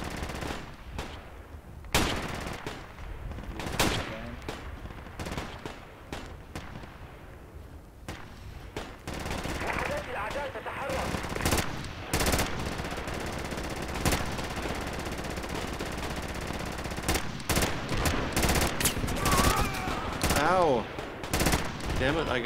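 Heavy machine-gun fire from an armoured personnel carrier in a team-based military shooter, loud bursts and scattered shots crackling through a dense battle din, with voices talking over the fighting.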